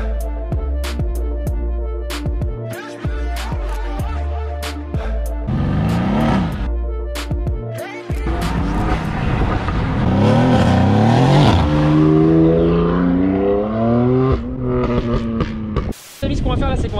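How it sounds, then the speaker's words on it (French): BMW M4 Competition straight-six and Mercedes C63S AMG V8 drag racing, loud engines revving hard through repeated gear-shift bursts, then one car roaring close by at high revs with rising, falling pitch; a voice speaks briefly over the engines. "rien à voir le bruit du 6 cylindres et du V8."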